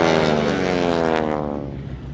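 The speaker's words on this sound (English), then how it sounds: "that's what makes the noise of the T6 Texan" A T-6 Texan propeller airplane roars past close by at an air show, its rasping buzzing engine note sliding downward in pitch as it passes and recedes.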